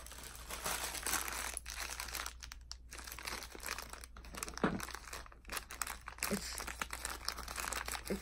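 Wax paper is crumpled and handled close by, a steady run of crinkling, crunching rustles with brief pauses and louder crackles, and no talking.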